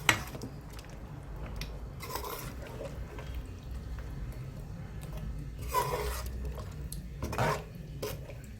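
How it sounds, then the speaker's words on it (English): A spoon stirs a stew with potatoes in a pot, giving faint scraping and clinking at irregular intervals over a low steady background, with a few louder scrapes toward the end. "And we're gonna stir this up here."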